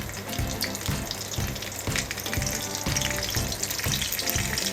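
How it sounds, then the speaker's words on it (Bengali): A slit green chili sizzles in hot oil as a tempering for a cucumber curry, giving a loud, dense crackle with a regular thumping stir roughly every half second throughout, and no talking. "একটা কাঁচা লঙ্কা ফাটিয়ে দিয়ে দিলাম। ফোড়নটা একটু হোক"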